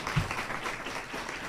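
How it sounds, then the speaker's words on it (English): A small audience at a poetry reading and open mic gives a brief round of applause for the readers, soft, distant clapping that fades quickly. "A round of applause for all the scheduled readers that read our poems today"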